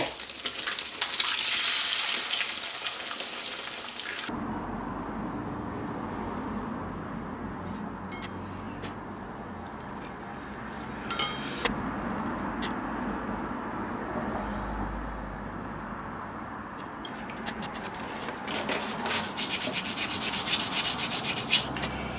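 Abrasive sanding on a small homemade guitar pick: a loud, harsh burst of grinding for the first few seconds, then a steady, softer rubbing and scraping that continues throughout, with no voices.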